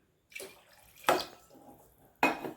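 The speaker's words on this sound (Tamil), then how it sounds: "இன்னும் கொஞ்சம் நம்ம தண்ணி ஊற்றிக்கலாம்" Water splashes into a metal pot of sambar in short pours, three distinct bursts with quiet gaps, close by and moderately loud.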